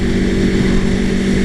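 A steady, loud engine drone from an Aprilia Tuono Factory motorcycle running in track mode, an even sustained roar with no voices over it.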